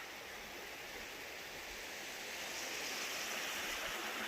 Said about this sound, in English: the river here, which is pretty neat. So I'll have some beautiful sounds for the evening